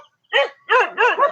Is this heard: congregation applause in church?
no